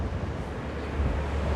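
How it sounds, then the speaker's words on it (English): Steady wind gusts buffet the microphone outdoors on a seaside esplanade, a broad continuous rush with no voices. "It's a bit windy, but it's keeping it cool."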